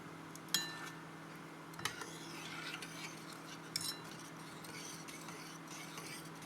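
Moong dal payasam sweetened with jaggery is stirred in a pot, a spoon scraping with a few faint clinks against the metal over a steady low hum, and no voices.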